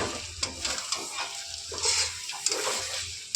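Mutton sizzles as it is sautéed and stirred in a pan, with a steady frying crackle and scraping stir strokes close up.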